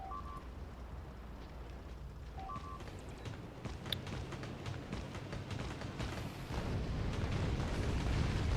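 Automated turrets in Factorio pour ammunition into attackers as a steady stream of muffled booms and pops, fairly quiet and growing denser and louder toward the end.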